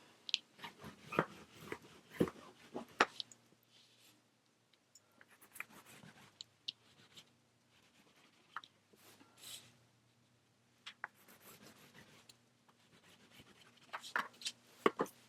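A marker or chalk scratches lines across fabric for an 18th-century bum pad, in short irregular bursts of dry rubbing and scraping separated by quiet pauses.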